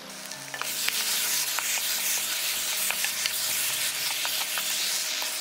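Boneless chicken feet stir-frying in a thick seasoned sauce make a dense, loud, steady sizzle, with occasional sharp crackles and spatula scrapes.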